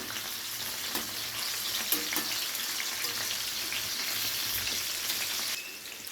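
Pointed gourd (potol) fries in a pan just uncovered: a loud, continuous close-up sizzle holds steady for about six seconds with faint stirring knocks, then eases slightly at the end.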